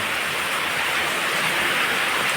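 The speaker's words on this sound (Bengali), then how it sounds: "অনেকক্ষণ বৃষ্টি হচ্ছে" Steady, dense rain from a Kalbaishakhi nor'wester storm in Bhola pours without a break, a close, even hiss with no voices.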